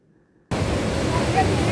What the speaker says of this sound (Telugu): Water fall sound.